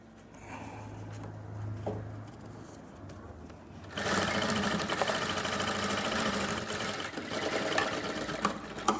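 A sewing machine top-stitching along the edge of a trouser belt on a women's pant, running in a loud steady whirring burst from partway in after a quieter start.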